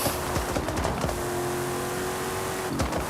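A steady, loud engine roar from a sports car in Forza Horizon 5, holding a high revving pitch with slight shifts, no talking.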